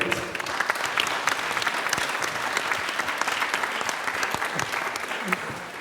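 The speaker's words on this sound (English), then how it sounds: "So let's thank the panel with a round of applause" Sustained, dense applause from an audience thanking a panel at an industry decarbonisation conference, a steady wash of clapping throughout with some voices mixed in.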